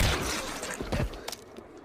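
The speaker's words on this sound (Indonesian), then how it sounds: "Darcy datang dan langsung menembaknya" A gunshot in Pride and Prejudice and Zombies as Darcy shoots a zombie woman outdoors: a loud burst at the start, then a few shorter thumping cracks, mixed with other rough film noise, with no clear talk.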